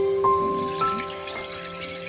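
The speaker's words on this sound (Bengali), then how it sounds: "জল দিয়ে দেবো বন্ধুরা।" Water poured from a jug into a pan of home-made egg and potato curry (dimer jhol), a short close splashing trickle with a faint steady hum behind it.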